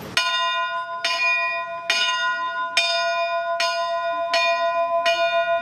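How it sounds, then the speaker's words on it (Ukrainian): A memorial bell tolls for fallen defenders, six clear, ringing strokes spaced evenly under a second apart, each leaving a long, bright hum, loud and close with no talking. "За загиблими пролунав дзвін пам'яті."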